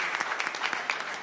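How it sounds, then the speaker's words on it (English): An audience at a talk on women in sports gives Rose a short round of applause, a steady patter of many hands clapping at moderate loudness. "Can you clap for Rose there?"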